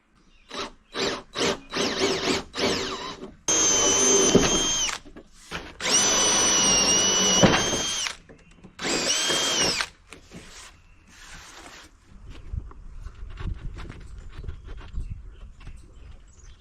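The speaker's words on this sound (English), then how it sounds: "Drill, baby, drill." Power drill boring holes across wooden steam box boards for a rotten wooden boat repair, several short bursts then longer loud whining runs with pauses, followed by quieter handling clatter.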